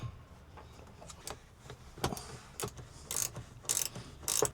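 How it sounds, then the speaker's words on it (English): Bolts being tightened on a fire extinguisher bracket in a Holden Torana, giving short ratcheting clicks and metallic turns in irregular bursts, close and fairly quiet, with no talking. "Then simply just tighten them back up."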